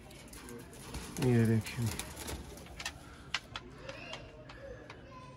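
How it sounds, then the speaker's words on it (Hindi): Sialkoti pigeons cooing in a short, low, throaty burst, followed by faint rustling and scattered coos, with someone speaking briefly at the start. "ये वो कबूतर है जिनका हमारे पास रिजल्ट है"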